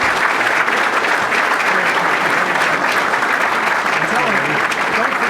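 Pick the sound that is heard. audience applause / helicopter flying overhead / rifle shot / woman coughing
audience applause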